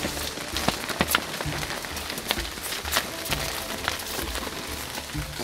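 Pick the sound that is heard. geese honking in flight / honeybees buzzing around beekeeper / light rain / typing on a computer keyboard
light rain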